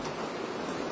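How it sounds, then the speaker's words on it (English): Steady rain drums on a tin roof after a day-long downpour, a dense, even patter with hiss that holds at the same level throughout, with no voices. "we have a tin roof, and like listening to the rain hitting the roof"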